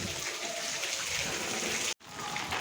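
Heavy unseasonal rain pours down for about an hour over a farming area, a constant broadband hiss of water that cuts out for an instant near the end before resuming.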